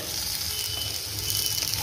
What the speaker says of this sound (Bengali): হ্যাঁ, এইভাবেই গ্যাসটা ধিমে আছে আমি ভেজে নেব